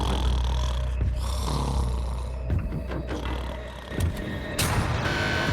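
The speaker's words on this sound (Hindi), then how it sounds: "वो स्टूपिड कॉप सारी रात खर्राटे मारता रहा।" A man snores through the night in a jail cell, loud rasping snores repeating in slow rhythm and a sharper snort near the end, with no talking.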